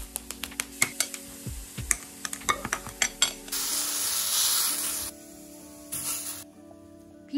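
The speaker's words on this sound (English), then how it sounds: "while that chicken's sizzling away" Chicken sizzles in a frying pan in a home kitchen: a hissing, spray-like burst of frying after a string of sharp tapping and clicking sounds, with a second shorter sizzle near the end.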